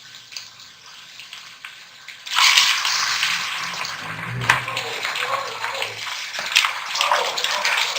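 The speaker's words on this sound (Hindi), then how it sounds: "अब इसके अंदर मैं चिकन डाल दूंगी।" Chicken pieces dropped into a hot karahi with garlic and oil, setting off a sudden loud sizzle at about two seconds that keeps crackling and hissing steadily to the end, louder than the quiet kitchen before it.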